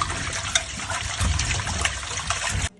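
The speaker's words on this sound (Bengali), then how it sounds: "রুই মাছের মাথাটা ভালো করে ধুয়ে নিতে হবে" Running water rinses a rohu fish head in a steady, splashing stream that carries on close and loud, then cuts off abruptly just before the end.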